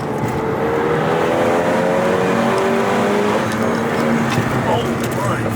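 Renault Megane RS turbo car accelerating hard, a loud continuous engine roar with rising harmonics as it pulls through the revs, heard from close inside the car with people talking over it.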